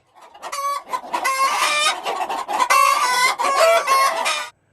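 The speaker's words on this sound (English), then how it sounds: "That's that famous cackling hens that starts off my open chats every time." Recorded hens cackle loudly and close, a rapid run of excited clucks and squawks in bursts that stops abruptly.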